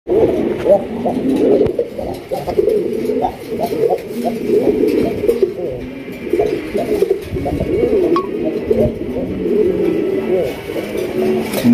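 Raj Golla pigeons coo continuously and loudly at close range, many birds overlapping in a dense, throaty, rolling chorus that fills the whole stretch.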